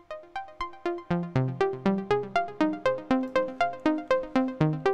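VCV Rack synth sequencer pattern through a ladder filter, reverb and triplet delay, producing a steady run of plucky repeated notes at a quick even pulse, with echoes trailing each note.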